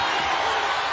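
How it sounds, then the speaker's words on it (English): Crowd noise from Kansas fans at a Big XII basketball final against Texas, a dense steady roar of cheering that fills the whole short moment at constant loudness. "Here comes the Kansas crowd."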